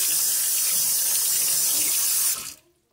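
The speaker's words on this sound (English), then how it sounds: "I do take it and just pour off as much as the excess water as I can, just to help it dry faster" Excess water poured off wet sand as a loud, steady gushing stream that cuts off abruptly near the end.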